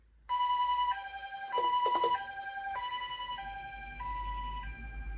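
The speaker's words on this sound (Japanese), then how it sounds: "救急車が通ります。" A Japanese ambulance siren on a sloped street, sounding loud and close as a steady two-tone hi-lo wail that alternates evenly over a faint road rumble.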